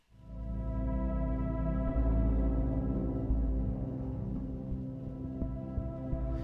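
A sustained, dense synth texture hums steadily, with a soft, low pulse moving underneath, fairly quiet and without voices.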